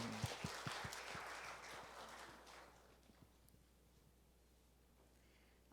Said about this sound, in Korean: 하나님께 영광의 박수, 찬송의 박수 올려드리겠습니다